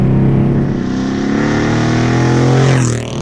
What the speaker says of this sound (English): This is why people love AMG cars. You know, that kind of noise